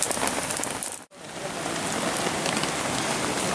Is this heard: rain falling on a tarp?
yes